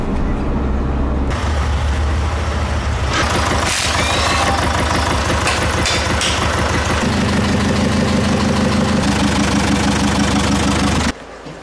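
A Citroën C4 Picasso engine idles with no oil, a loud close rough clatter with a knocking tone that shifts in pitch partway through and then cuts off abruptly at the end, with no one talking.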